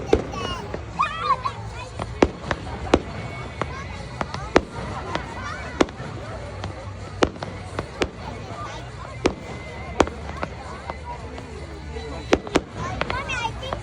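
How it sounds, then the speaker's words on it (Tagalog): Summer fireworks exploding in a rapid, irregular series of sharp bangs and cracks, some nearer and louder than others, over a continuous background of people and children talking. "It's just a firework."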